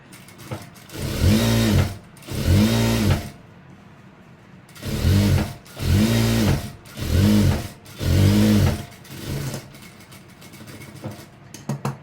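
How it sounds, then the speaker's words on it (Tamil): A sewing machine runs in short, loud bursts, about six of them over roughly ten seconds, as it stitches fabric for elastic uniform pants. Brief pauses separate the bursts and no one speaks. "இப்போ உனக்கு 2 தையல் போட்டுக்கேன்"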